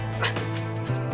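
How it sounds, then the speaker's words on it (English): A dog in a park gives a short, close yelp-like bark during play with a stick, with a steady hum underneath. "Seeing the two dogs in the park racing around and chasing each other"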